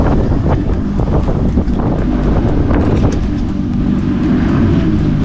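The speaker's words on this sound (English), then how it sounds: "Here comes the wind and the rain." Steady, loud wind buffets a fishing boat while halibut fishing off Juneau, Alaska, a continuous low roar with gusty rumble and faint spattering on top, without let-up.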